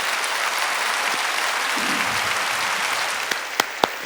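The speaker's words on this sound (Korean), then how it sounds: "하나님께 박수치고" Church congregation applauding during a worship service, a continuous wash of clapping with a few sharp louder claps near the end and no talk.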